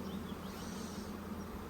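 Honeybees hum steadily around a hive that has a queen, a soft continuous drone of many insects in the background without any speech.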